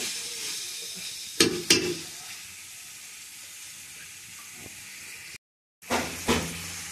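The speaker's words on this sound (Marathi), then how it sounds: "कांदा चांगला परतून घ्यायला पाहिजे" Onions sauté in a pan over a wood-fired village chulha for chicken biryani: a steady close sizzle with two sharp stirring knocks and a brief dropout, then more stirring clicks.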